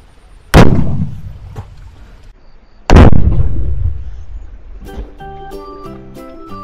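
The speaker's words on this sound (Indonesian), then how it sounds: "kita nyalakan mercon spiritus dengan 4 saringan diisi karbit" Two loud, sharp booms about two seconds apart from a carbide-filled firecracker cannon, each trailing off in a rolling echo, followed by faint ringing tones.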